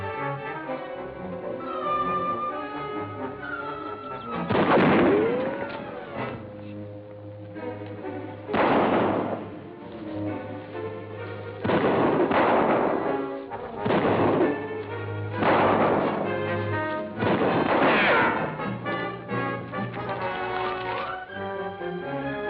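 Radio drama gunfire effects crack out in several loud, booming volleys spaced a few seconds apart, each burst dense and reverberant, with quieter stretches of background sound between them.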